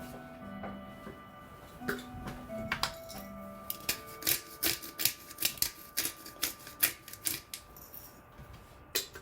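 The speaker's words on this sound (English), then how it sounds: "And a little pepper." A pepper grinder turns over pizza sauce with a run of quick dry crunching clicks, close and fairly quiet, after a few faint clinks.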